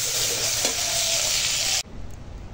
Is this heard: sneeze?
no